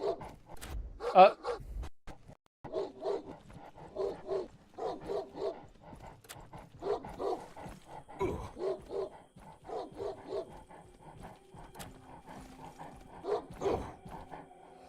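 A hound barks repeatedly in a Batman video game, a series of short yips and woofs in uneven bursts over game sounds, with a person talking at times.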